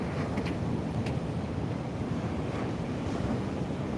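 Ocean waves washing ashore on the coast near Withernsea, a constant rushing surf mixed with wind buffeting the microphone, steady and fairly loud with no voices.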